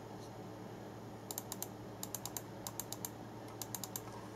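Main buttons of a Bloody V5 computer mouse clicked in quick, quiet bursts of two to four, crisp small clicks repeating several times over faint background hiss.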